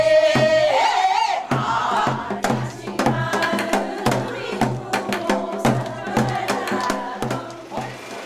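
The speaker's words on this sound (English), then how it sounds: "I happen upon an ever-growing crowd of people singing folk songs." A crowd on a street in Cheongju, Korea sings folk songs loudly and together, with a prominent lead voice at first, then a dense chorus broken by rhythmic shouts and clapping-like hits.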